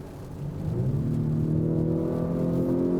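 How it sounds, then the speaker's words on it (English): Engine note of a 2019 Acura RDX heard from inside the cabin, artificially boosted through the stereo system, a smooth rising hum that swells in the first half-second and then holds steady as the revs climb. "there's an artificial sound that they pump through the stereo system to make it feel more aggressive"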